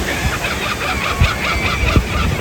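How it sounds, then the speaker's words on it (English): Sea lions calling by the sea at Valparaíso, Chile, a loud cluster of hoarse, honking barks repeating irregularly over constant surf and wind noise, several animals overlapping at close to middle distance. "there's a bunch of sea lions down there"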